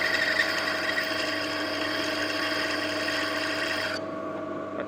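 A steady, high-pitched drilling whine as a hole is bored for a gear stick in a machining workshop, continuous and fairly loud, cutting off abruptly near the end.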